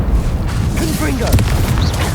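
A Confringo spell bursts in Hogwarts Legacy as a deep, booming blast amid dense combat noise, with voices shouting over the fight.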